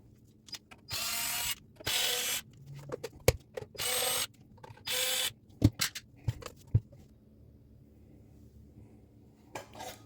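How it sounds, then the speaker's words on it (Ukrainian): Screws being driven out of the cover of a FOVAL 2600W device with a power screwdriver, four short whirring bursts separated by quiet gaps, with sharp metallic clicks and clinks of the screws in between. "Для цього треба викрутити 4 гвинти по периметру кришки."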